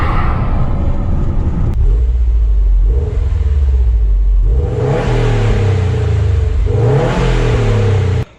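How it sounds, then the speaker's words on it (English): A Subaru STI drives past, a close, loud engine rumble rising and falling with a rev swell near the end, heard alone with no talking. "Somebody driving my car past me, and you'll hear that it is almost completely silent."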